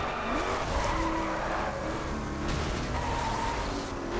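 A car in the racing video game The Crew roars along with a steady engine drone and long tire squeals as it skids, loud and continuous with no talking.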